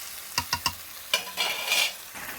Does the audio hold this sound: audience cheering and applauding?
no